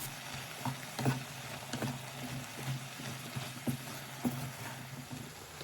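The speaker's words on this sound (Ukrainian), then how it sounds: "Тепер додаю цибулю, обсмажую пару хвилин." Chopped onion and button mushrooms fry in a pan, giving a low, steady sizzle under occasional soft knocks and stirring scrapes from a utensil, close by and moderate in level, with no talking.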